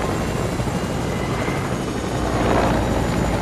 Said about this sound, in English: Can I fly the helicopter?